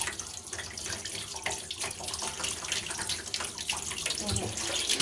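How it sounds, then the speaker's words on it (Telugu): Tap water runs steadily into a sink while chapati dough is rinsed under it, a continuous close splashing stream with no talk. "మామూలుగా నీళ్ళు వస్తున్నాయి"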